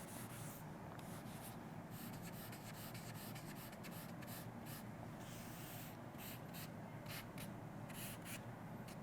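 Writing is rubbed off a classroom board, a faint continuous scratchy rubbing made of repeated short strokes, close, with no talking.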